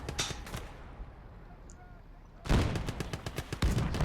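Tank artillery guns in a video game fire in bursts, a hard blast opening the stretch and a heavier sustained barrage with sharp repeated cracks arriving after a quieter lull.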